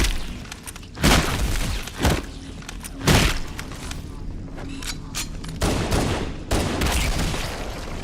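Bursts of rapid gunfire from the Halo Anniversary video game, shooting at enemies, come in repeated loud volleys about a second apart with booming impacts between them and no voices.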